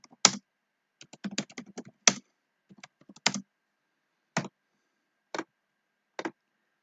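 Sparse keyboard clicks, a short flurry of typing followed by isolated single keystrokes spaced a second or so apart, close by and quiet.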